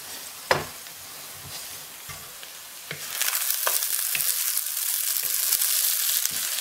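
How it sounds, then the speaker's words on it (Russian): Onions sauté in oil for a filling of meat pies, a steady sizzle that grows louder and brighter midway as they are stirred, with occasional knocks and scrapes of the utensil against the pan. "Видите, лук продолжает обжариваться."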